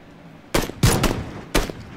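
Gunfire in a shooter video game, with three sharp bursts of shots spaced apart over faint background noise.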